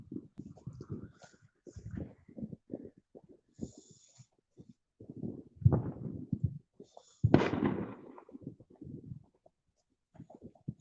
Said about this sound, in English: Oh, there's some fireworks.